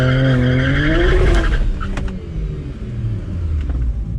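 A BMW with a twin-turbo N54 engine and a transmission fault launches in first gear: a loud engine surge rises in pitch and then drops away, with tire noise, close and continuous.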